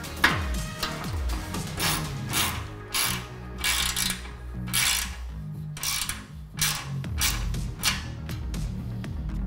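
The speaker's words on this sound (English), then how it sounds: "hold the bolthead side with your 6mm Allen wrench and the nut side with your 13mm socket" A ratchet wrench with a 13mm socket tightens the nut on a cargo basket mounting bolt, its pawl clicking in quick, repeated bursts close by, with brief pauses between strokes.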